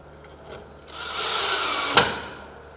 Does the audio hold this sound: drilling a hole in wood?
yes